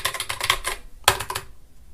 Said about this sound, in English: So I can type on this normally, or I can use the mechanical keyboard.